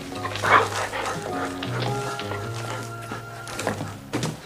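A dog from a French Lucky Luke television series starring Terence Hill gives a few close barks and yips mixed with whimpering. Thuds and background music run underneath.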